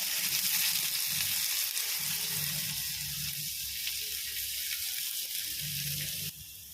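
Garlic and onion sautéing in a small amount of oil, a close, steady sizzle with faint crackling that holds for several seconds before easing slightly at the end.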